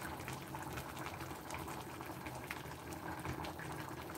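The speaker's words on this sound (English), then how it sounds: "it's just boiling." Water boiling in a cooking pot, a steady close bubbling and hiss that runs unbroken throughout at a soft, even level.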